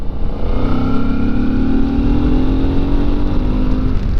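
A Yamaha Ténéré motorcycle accelerates hard past slow cars on a road, its engine note rising steadily in pitch as the revs climb, loud and close throughout.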